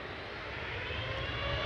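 A TUI jet airliner in new livery, flight 708 to Dalaman, rolls past at Manchester Airport with a steady, broad engine roar that builds slightly in loudness across the short span, with no voices.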